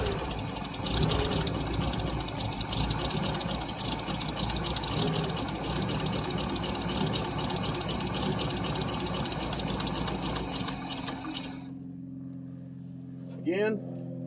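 The engine of a 1959 International B120 4x4 cranks on a cold start in a dense, continuous mechanical churn that runs for about twelve seconds, then cuts off, leaving a brief quiet pause and a short voice.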